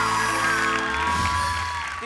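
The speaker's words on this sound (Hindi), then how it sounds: "बहुत सारी तालियां फैसल के लिए" An audience on a comedy talk show applauding and cheering for Faisal, a steady loud wash of clapping and whoops under a host's voice.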